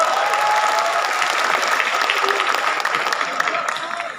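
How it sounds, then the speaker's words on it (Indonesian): Dense, sustained applause from a large audience at a public event, loud and continuous before tapering slightly at the end. "Tepuk tangan buat semuanya."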